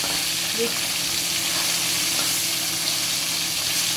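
Pieces of katla fish sizzle steadily in hot oil, a constant close, even hiss with no talking.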